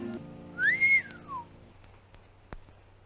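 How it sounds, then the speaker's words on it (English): A person whistles a single rising-and-falling note, short and clear, against a quiet background with a faint low hum and a brief knock afterward. "What'd you whistle for?"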